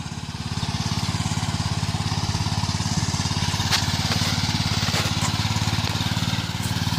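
A pickup truck in first gear, low range, pulling a massive 65-inch foundation stone up a small hill, a steady loud chugging engine drone with a fast regular pulse, close by.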